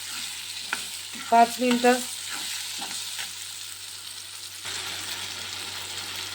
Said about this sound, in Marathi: हिरवे वाटाणे टाकल्यानंतर ते पण थोडेसे शिजू द्यायचे